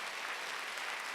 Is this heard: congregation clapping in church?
yes